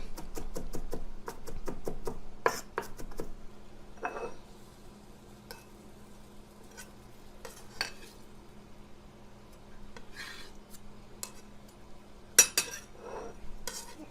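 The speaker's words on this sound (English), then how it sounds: "So I've got about 5 cloves of garlic here. Just gonna do a nice kind of rough chop on them." A knife rough-chops garlic cloves on a cutting board in a kitchen, with quick, faint clusters of tapping chops and clinking utensils between quieter pauses.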